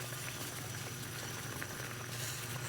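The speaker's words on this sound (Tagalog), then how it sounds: "kumukulo na rin siya" Milkfish sinigang soup with banana blossom and green mango boils in a covered pot, giving a steady, close bubbling and simmering hiss that runs unbroken the whole time, with no voices.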